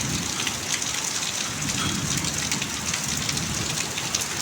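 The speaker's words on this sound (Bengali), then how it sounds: "এই বৃষ্টিটা খুব দরকার ছিল" Steady heavy rain falls close by in a village with mango trees, a dense constant patter with faint thunder rumbling underneath and no one talking.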